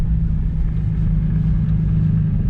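Inside a Nissan Z with rough-feeling steering, driven slowly through wide turns; a steady, close engine and road rumble drones evenly throughout with no talking.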